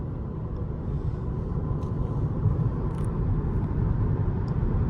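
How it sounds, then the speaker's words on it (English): Steady low engine and road rumble inside a 2019 Lexus ES300h hybrid with a four-cylinder engine while driving, a smooth, quiet hum with no talk. "But the 4-cylinder is so quiet and smooth."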